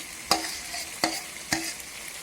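Scraping cashew nut and melon seed paste in a hot pan, three distinct scrapes of a utensil over a soft sizzle, close and fairly quiet.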